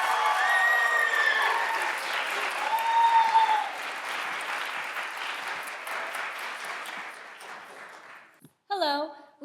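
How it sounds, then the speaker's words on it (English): A theater audience at a Shakespeare monologue and scene contest gives upper division finalists a sustained, loud round of applause with a few whoops, tapering off before a voice begins speaking. "please join me in giving a rousing round of applause for our superb upper division finalists"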